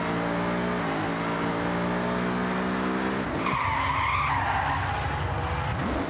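A car in Forza Horizon 6 slides and skids, tires squealing loudly as the engine drones with steady tones and then revs.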